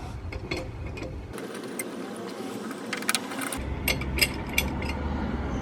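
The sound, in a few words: C-clamp being unscrewed from brake caliper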